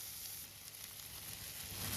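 Onions sizzle and fry steadily in a hot pan, a dense, continuous hiss and crackle close by with no talking, swelling slightly louder toward the end.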